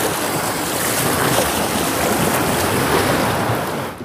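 Steady rush of surf washing ashore, a continuous broadband hiss with light wind noise, no voices.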